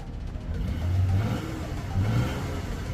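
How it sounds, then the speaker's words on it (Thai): A Nissan Teana 2.4 with an automatic gearbox is revved at idle, its engine swelling in two short blips that carry steady mid-pitched motor noise, close to the microphone and with no voices over it. "เดี๋ยวผมจะเบิ้ลให้ฟังด้วย"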